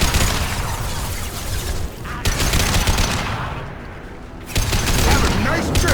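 A gun fires in rapid bursts in the Mass Effect 2 video game, producing dense loud automatic fire with a brief pause midway before resuming, loud and close, with a voice faintly mixed in.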